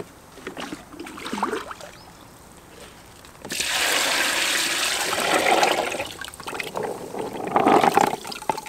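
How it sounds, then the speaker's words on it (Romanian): Lake water poured into a bucket over fishing boilies, a sudden gushing, splashing rush that runs for several seconds after a quieter stretch, close and fairly loud, ending in a final surge of sloshing. "iar peste ele o să adaug doar simplu apă din lac"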